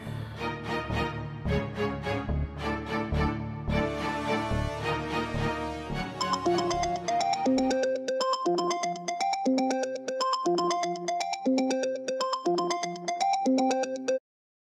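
Phone ringtone playing a repeating electronic melody, loud and continuous, with the tune changing partway through, as an outgoing call rings late at night before it is answered.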